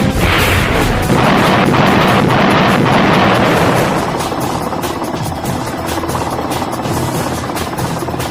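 Loud, continuous rotor roar of a helicopter, heavy and close at first, then easing slightly while staying steady.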